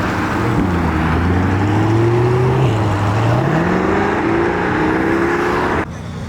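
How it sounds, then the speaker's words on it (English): A Chevrolet Corvette C8 rolls out of a car meet, its engine note rising steadily as it accelerates, loud and close, before cutting off abruptly near the end. "C8 about to roll out as well"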